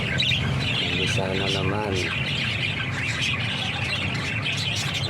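A pet bird chirps and squawks repeatedly at close range amid a noisy room, with a person talking over it.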